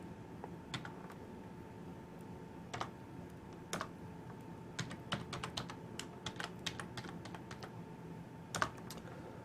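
Someone types login credentials on a computer keyboard, producing quiet, irregular key clicks in short bursts over a steady low room hum, with no talking.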